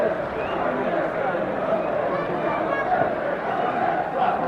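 Steady crowd noise from fans in a football stadium as the Torres players and supporters exchange applause after a cup final first leg against Cannara, a continuous broad roar of clapping and chatter without distinct breaks.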